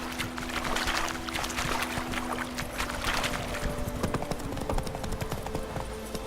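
Geralt's horse Roach trots in The Witcher 3, a steady clip-clop of hooves at close range over a faint ambient bed and a low steady hum.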